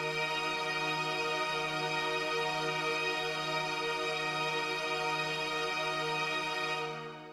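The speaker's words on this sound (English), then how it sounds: "Now I've made an amalgamation here of just different strings from SRX Orchestra and SRX Strings" Layered strings blended from SRX Orchestra and SRX Strings hold one sustained, steady chord for several seconds before fading out at the end, alone and moderately quiet.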